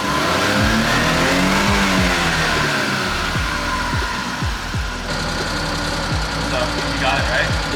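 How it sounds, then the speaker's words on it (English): JDM mini truck with its differential lock engaged, engine revved hard while stationary; a near, steady mid-pitched rev with repeated rising-and-falling sweeps and a knocking, choppy undertone. "Now let's see if it goes away once we rev it up."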